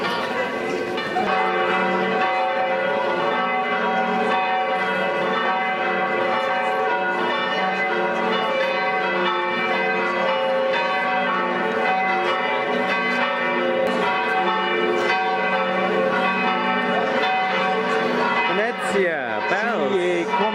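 Church bells ringing from a tower in Venice, Italy, a loud, dense peal of overlapping tolls sounding continuously and close by, with voices heard faintly beneath near the end.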